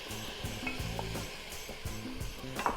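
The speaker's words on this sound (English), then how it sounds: "Just going to dump in the tomatoes" Tomatoes tipped into a hot Instant Pot with yellow curry paste and red lentils, giving a steady close sizzle and frying crackle with stirring scrapes throughout, no voices.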